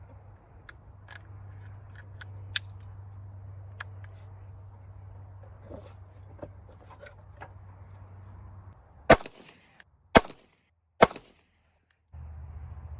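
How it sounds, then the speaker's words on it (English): A CZ P07 pistol fires 115 grain powder-coated semi-wadcutter bullets on a range, three sharp shots in quick succession near the end, preceded by a low steady hum with faint clicks. "the next set of ammunition we're going to be shooting is the 115 grain semi-wad cutter powder"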